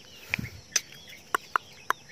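Rhode Island hens in a backyard poultry pen, a few short, separate clucks spaced irregularly, close and fairly clear against a quiet background.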